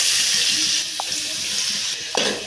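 Chopped onions tipped into a hot pan of spluttering mustard seeds and cumin hiss in a loud, steady sizzle, with a couple of sharp pops and scrapes cutting through.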